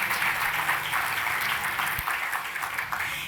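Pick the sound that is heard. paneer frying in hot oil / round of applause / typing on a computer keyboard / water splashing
round of applause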